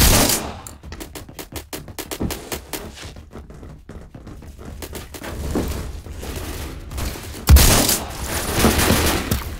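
Submachine gun fire in the Phantom Forces shooter game, featuring rapid close bursts of sharp shots in quick rhythm that pause and then return as heavier, denser firing with a loud impact near the end.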